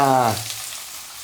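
Onion hitting hot oil in a kadhai while cooking a spicy crab curry: a brief, close sizzle that starts right after a short voiced sound and settles into a soft frying hiss.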